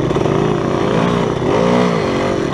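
A motorcycle engine drones loud and close while riding through deep sand in Arizona, its pitch wavering as the throttle rises and eases in a continuous rumble.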